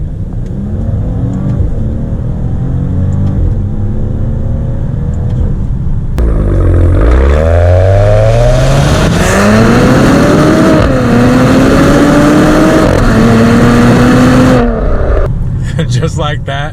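A 2021 Maserati Ghibli S Gransport V6 revs hard and accelerates up close, its engine note climbing loudly through several gear changes, with a brief lull before the pull.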